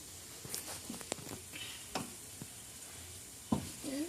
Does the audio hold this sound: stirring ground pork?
yes